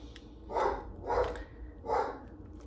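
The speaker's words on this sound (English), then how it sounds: "Try to get the dog to stop barking." A dog barks three times indoors at a home, slightly distant and muffled, in an evenly spaced rhythm over low background hum.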